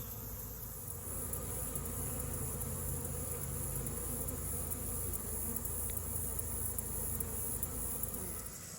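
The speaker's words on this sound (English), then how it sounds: "Today we're going to be talking about bee orientation flights." A dense, continuous hum of many honey bees buzzing in front of their hive during orientation flights, steady and close, with no talking.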